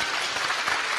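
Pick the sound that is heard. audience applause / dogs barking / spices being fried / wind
audience applause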